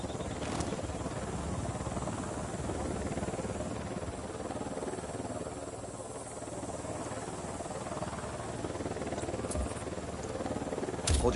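A helicopter in Ghost Recon Wildlands gives a steady low rotor drone and hum, faint and continuous throughout with no talk.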